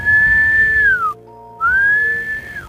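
A person whistles in imitation of a whistle's sound, two long clear piercing tones, each gliding down at its end, with a brief silent gap between them.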